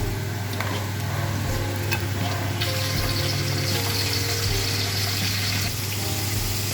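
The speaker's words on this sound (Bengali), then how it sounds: "মাছগুলোকে ভেজে তুলে নিলাম। এভাবে সবগুলো মাছ আমি ভেজে নেব।" Small fish frying in hot oil for a radish and small-fish curry give a steady, dense sizzle throughout, close and fairly loud, with a low steady hum underneath and no talking.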